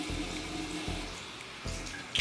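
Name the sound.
tap water rinsing face mask off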